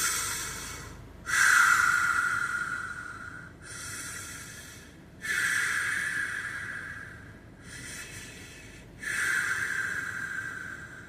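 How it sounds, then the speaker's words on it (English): Slow, deep breathing up close, in a lesson about staying calm in water: three long hissing inhales alternating with softer exhales, evenly paced and alone. "Deep breath."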